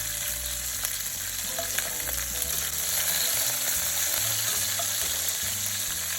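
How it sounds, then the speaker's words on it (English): Oxtail searing in a pot with steady, loud sizzling and frying throughout, joined by a continuous low rhythmic patterned sound underneath and no talking. "we want to sear all sides of the oxtail here"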